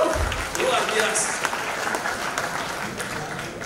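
Applause fills a Christmas musical drama event, a steady wash of many hands clapping throughout with crowd noise and a voice speaking over it.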